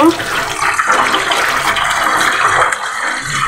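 Boiled food being poured out and rinsed with water in a home kitchen, a steady rushing, splashing stream of water running continuously at close range.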